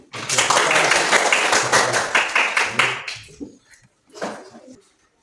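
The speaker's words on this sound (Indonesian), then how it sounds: "Tepuk tangan untuk semuanya" Classroom applause from students, a dense burst of clapping lasting about three seconds before fading out, followed by a brief murmur of voices.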